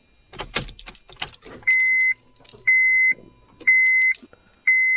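Keys jangle as the ignition of a Honda Civic is switched on, followed by a repeating electronic warning chime of four evenly spaced beeps, each about half a second long. No engine cranking or running is evident.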